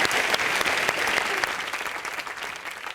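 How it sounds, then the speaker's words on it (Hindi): Studio audience applause on a live comedy show, a dense burst of many hands clapping close and loud, gradually tapering off over a few seconds. "जोरदार तालियां"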